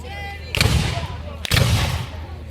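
Two heavy booms of a Civil War reenactment cannon firing about a second apart, each with a rumbling low tail, fairly close and loud.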